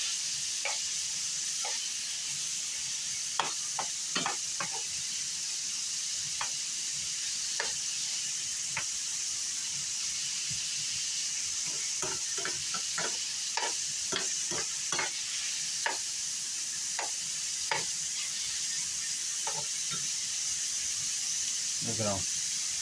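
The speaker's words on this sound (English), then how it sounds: "We're going to saute this really good, make sure the meat's cooked good." Meat sautéing in a pan for Filipino monggo gives a constant soft sizzling hiss, broken by scattered sharp clicks and scrapes of stirring, close by throughout.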